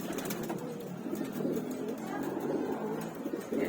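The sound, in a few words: racing pigeons cooing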